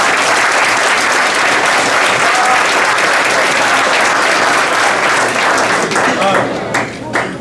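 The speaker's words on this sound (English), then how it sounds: "So let's please give our assistants a round of applause." Loud, sustained audience applause at a high school football awards night honouring assistant coaches, dense clapping that tapers off in the final second.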